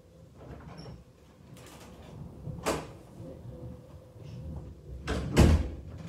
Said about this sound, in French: Fermez la porte.